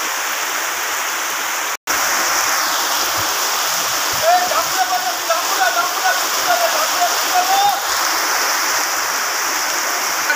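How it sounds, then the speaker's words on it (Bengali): Heavy rain pours down outdoors in Gazipur, a steady, dense hiss that fills the scene for the whole stretch apart from a brief cut near the start, with faint wavering tones drifting through the middle. "গাজীপুরে এখন পর্যাপ্ত পরিমাণ বৃষ্টি হচ্ছে, আমরা বৃষ্টিতে ভিজতেছি"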